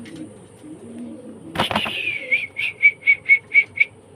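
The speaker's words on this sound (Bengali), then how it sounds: "নিখুঁত কবুতর ছয় হাজার পাঁচশো টাকা" A brief flutter of wings, then a pigeon calls in a run of about seven short, evenly spaced coos, fairly close and clear over a quiet background.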